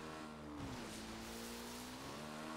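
Motorbike engines in a GTA 5 online parkour race drone steadily with a rising and falling whine and a brief squeal, heard faintly in the background.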